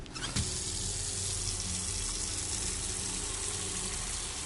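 In the video game Autopsy Simulator, water runs from a tap into a container in a lab, a steady close rushing stream that begins with a brief clatter and continues without pause.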